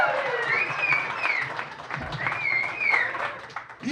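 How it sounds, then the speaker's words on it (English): Comedy club crowd at a diner applauding and cheering after a stand-up bit, steady clapping with whoops and a rising shout over the top, dense and close throughout. "With all the applause and cheer."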